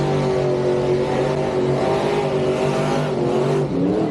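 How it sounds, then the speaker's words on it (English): A 1940 Willys Coupe gasser drag car does a burnout, its engine roaring loud and steady at high revs with raspy tire noise and a continuous dense blare throughout. "Big burnout for the Willys on the right-hand side"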